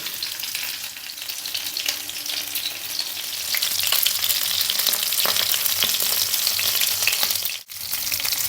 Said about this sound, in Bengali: এভাবে আমরা ঘুরিয়ে ফিরিয়ে ছ সাত মিনিট ভেজে নেবো